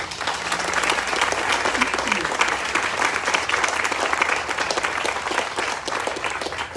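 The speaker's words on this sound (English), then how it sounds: "So a big round of applause" A large audience gives a sustained round of applause at a building dedication celebration for a $24 million YWCA renovation, dense clapping filling the room evenly for several seconds without a break.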